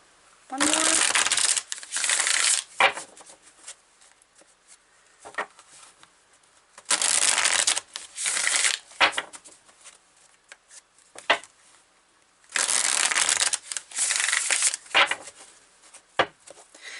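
A tarot card deck is shuffled in repeated bursts of crisp riffling and flapping, each lasting about a second, separated by quieter handling noises and soft taps, close and fairly loud.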